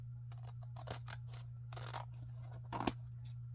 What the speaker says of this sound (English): But I'm going to go ahead and trim that.